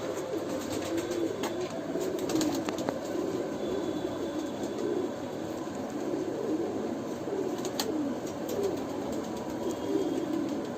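A pure old-line Sialkoti pigeon coos in repeated low, rolling phrases, moderately close, over a steady hiss of background ambience with a few faint clicks.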